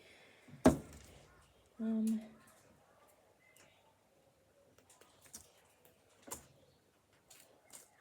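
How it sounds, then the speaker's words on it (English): Flower stems are trimmed for a posy box arrangement: a sharp snip near the start, a brief humming tone, then scattered quieter clicks and a second cut against a near-silent background. "So I'm just trimming that one up, adding it in."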